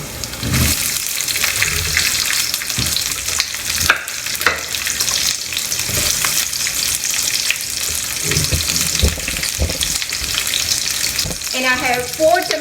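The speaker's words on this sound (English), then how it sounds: "Once that is sauté, I'm adding about 2 small onion here." Roughly chopped onions sautéing in a pan for a burrito bowl, a steady loud sizzle throughout with occasional stirring scrapes and a brief watery splash near the end, and no talk.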